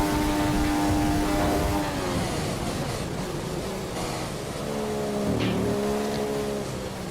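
Formula 1 car engine in F1 2015 at Spa, a steady high-pitched whine holding pitch, then dipping and climbing again as the car shifts and accelerates, with no talking over it.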